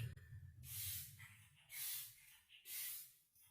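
Hair gel finishing spray from a pump bottle, three separate hissing bursts in a quiet room, each under a second long, with a faint voice at the start.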